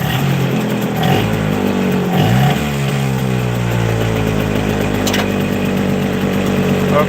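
A Hangkai 6hp two-stroke outboard engine with a freshly rebuilt carburetor buzzes loudly and close, its pitch winding up and back down in repeated surges before settling into a raspy steady run.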